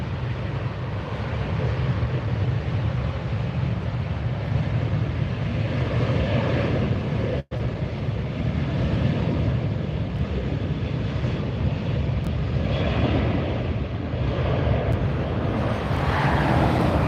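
A Southwest airliner departs from LAX, giving a loud, sustained low roar of jet engines near the runway that holds steady throughout, with wind buffeting on the microphone.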